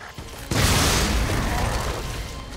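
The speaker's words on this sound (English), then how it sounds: "Drop that grenade right there." Grenade exploding in Resident Evil 7, a sudden loud boom after a brief quiet moment, followed by a long rumbling, crackling tail that slowly fades.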